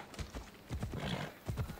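Horse hooves clip-clop at a steady gallop rhythm while riding in the video game Assassin's Creed Odyssey, fairly close and clear, with a brief neigh or whinny mixed in.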